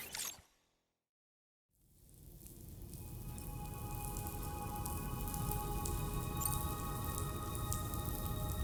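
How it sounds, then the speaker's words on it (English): Rain falls in the video game Death Stranding 2: On the Beach. After a short loud sound and a moment of silence, a dense, even patter of raindrops builds and then keeps up steadily. It is fairly close and has no voices over it. "raindrops are falling on my"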